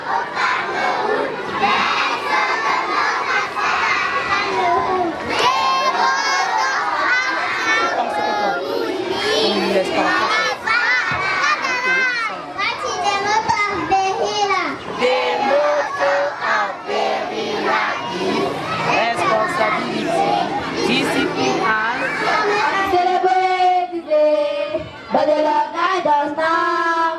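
A school audience in Cameroon cheers loudly throughout, with crowd shouts, children's voices and chanting blending into a continuous, energetic roar.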